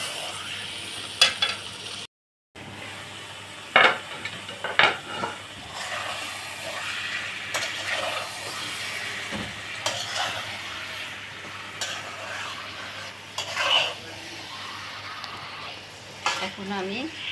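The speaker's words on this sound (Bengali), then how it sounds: "মাংসটা কষিয়ে নিব।" Meat for shahi korma being stir-fried dry in a pan without water, a steady sizzle with repeated scraping stirs of the spoon throughout, moderately close.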